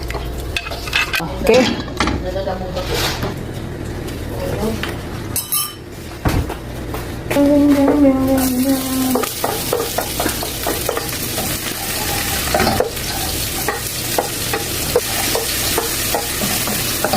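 Garlic, ginger and onion sautéing in a pan while kalabasa is being cooked, a steady sizzle with frequent stirring and clinking of a utensil against the pan, one brief spoken word near the start.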